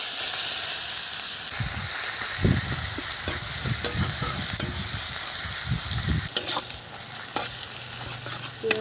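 Onions sizzle in a kadai with bay leaf and cumin while being cooked for a spicy rui fish curry. A steady hiss of frying runs under repeated scraping stir strokes, with a few clinks near the end.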